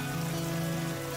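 Steady rain pours down at an outdoor farm festival, a constant dense patter on surfaces with no break, close and even throughout.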